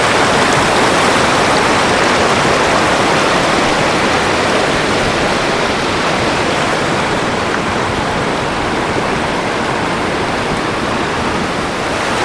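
A river stream flowing through forest at Lulung in Simlipal, Odisha: loud, unbroken rushing water fills the whole stretch at a constant roar, close by and alone.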